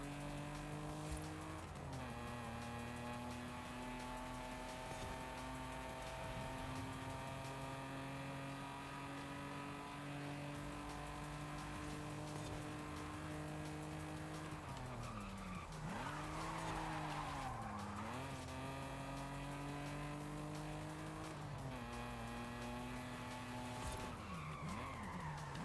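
A BMW in the Forza Horizon 5 video game drives hard with a continuous engine drone and repeated long tire squeals and skids as it slides through turns.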